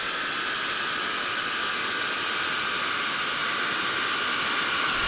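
Simulated Boeing 720 jet in X-Plane 12 after touchdown, a steady broadband engine and rolling roar holding at constant loudness throughout, with no talking.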